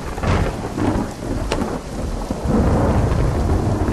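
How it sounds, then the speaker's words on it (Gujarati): Heavy monsoon rain pours down across Panchmahal in Gujarat, a dense continuous roar with deep rumbling thunder swelling underneath, loud and close. "પંચમહાલમાં પણ વરસાદનું આગમન થઈ ગયું છે"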